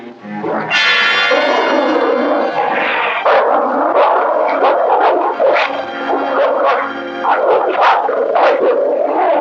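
A hound howls and bays loudly from a 1939 Hound of the Baskervilles film soundtrack, long sustained wails with shorter yelping barks, close and dominant throughout.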